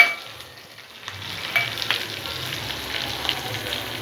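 Chillies and sesame seeds crackle and sizzle in hot oil with popping mustard seeds, a steady, close frying hiss that swells after the ingredients drop in, with no voices.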